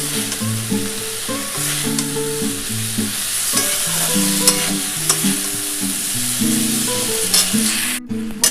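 Vegetables for a Bengali vegetarian curry frying and being stirred in a pan, a steady close sizzle with repeated clatter and scraping of the spoon throughout, no voices.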